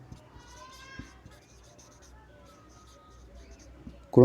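Faint scratchy strokes of writing on a board during a chemistry lesson on atomic number and isotopes, soft and intermittent beneath a teacher's voice talking.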